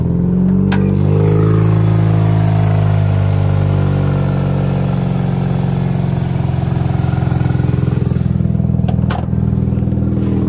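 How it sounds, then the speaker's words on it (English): A 2005 Mazda RX8 with an automatic gearbox and rotary engine revs steadily and loudly up close, its smooth buzzing drone holding throughout with a couple of brief clicks near the start and end. "we have a 2005 Mazda RX8. It is running and driving at the time of the video."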